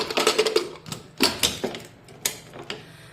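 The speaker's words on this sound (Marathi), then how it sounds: "आता कुकरला झाकण लावूया" A series of metallic clicks and clunks, several quick knocks in irregular rhythm, as a pressure cooker lid is fitted and locked on.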